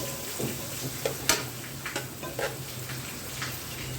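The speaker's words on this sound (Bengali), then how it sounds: "আমি ঘিয়ের মধ্যে কিছু আলমন্ড বাদাম কেটে রেখেছিলাম এগুলো ভালোভাবে ভেজে নিচ্ছি" Chopped almonds fry in ghee with a constant, close crackling sizzle, punctuated by small scattered pops and a few soft utensil taps as they are stirred.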